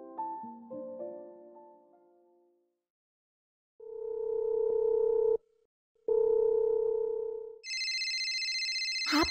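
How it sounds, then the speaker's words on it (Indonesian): A mobile phone rings in a quiet room: first a faint chiming melody, then two loud sustained electronic tones with a brief gap between them, followed by a shrill, higher-pitched ringtone that keeps sounding at the end. "HP berbunyi mulu ya?"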